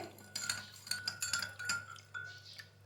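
A spoon clinks repeatedly against a glass while stirring milk, water and sugar, a rapid series of bright, close metallic taps.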